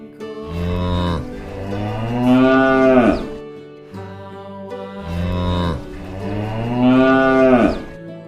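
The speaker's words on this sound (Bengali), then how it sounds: "গরু বাছুর দাঁড়িয়ে আছে।" A cow moos twice, long and loud and close by, with a brief pause between the two calls.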